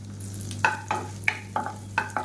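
Garlic and ginger sauté in a pan, with six crisp spatula scrapes spaced roughly every half second over a low, steady background hum and faint sizzle.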